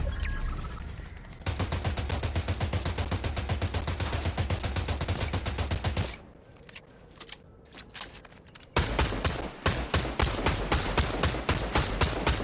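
A machine gun fires in the game Fortnite in long rapid bursts with steady rhythm, loud and close, then a short pause of scattered clicks before another dense burst.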